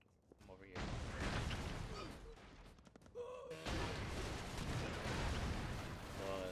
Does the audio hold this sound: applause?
no